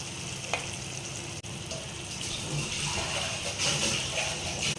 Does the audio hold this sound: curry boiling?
yes